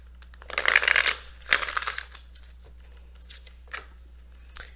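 Messenger Oracle cards being shuffled in the hands during a tarot reading: a dense papery riffle for about a second, a shorter burst after, then a few faint card taps, with no talking.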